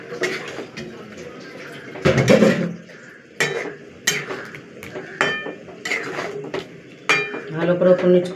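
Mutton curry with lemon is stirred and mixed in a cooking pot, giving a series of irregular metallic scrapes and clanks from a spoon on the pot, close and fairly loud, with a voice speaking between the strokes.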